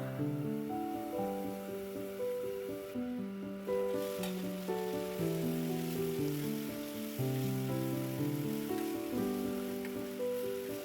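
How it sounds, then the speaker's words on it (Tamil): Steady, even sizzling of onions frying in hot oil for a yam curry, a constant crackling hiss with a tune playing underneath. "வெங்காயம் நல்லா எண்ணெயிலேயே நல்லா வதங்கி வர நேரத்தில்"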